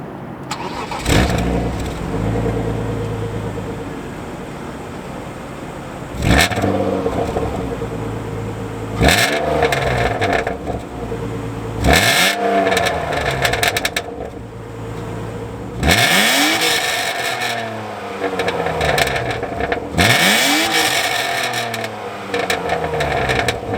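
A stock drift car's engine cranks and catches, then revs up sharply several times in a row, each burst falling back to a rough idle, loud and close.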